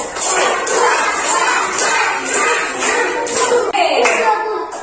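Children clapping along to a clapping song in a classroom, with a series of sharp, evenly spaced claps over a busy room background.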